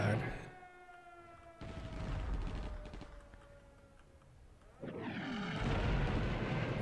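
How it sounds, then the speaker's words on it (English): Explosions from the horror video game Blood Fresh Supply burst out twice as sharp, heavy blasts amid game sounds, with a person talking over the gameplay. "Must have been hurt by that explosion."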